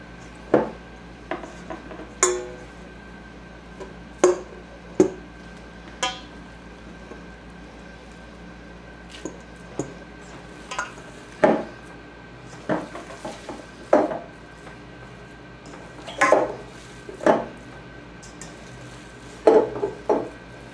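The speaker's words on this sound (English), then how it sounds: "combine our beef and pork mixture with this" A beef and pork mixture is worked into thick pinhead oats, heard as scattered scrapes and knocks of a spoon against a pot, irregular and fairly close, with quiet gaps between strokes.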